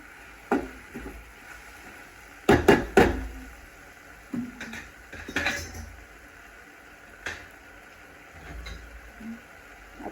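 Crushed potato thecha being stirred and sautéed in a pan, with scattered clinks and scrapes of a spatula against the metal, several sharper knocks in the middle, over a quiet background with no talk.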